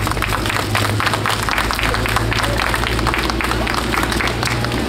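A large audience applauds at the opening of a new circus building in Ivanovo, dense sustained clapping filling the hall, with a voice speaking over it.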